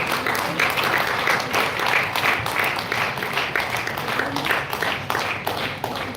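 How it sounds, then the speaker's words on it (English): An audience at a management school event applauds dignitaries on stage, a dense steady wash of many hands clapping, loud and sustained throughout with no pause. "Huge round of applause for all the dignitaries."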